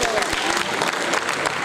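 Applause from a town hall audience at a national meeting against kush in Sierra Leone, a steady dense patter of many hands filling the short stretch, with some crowd voices mixed in.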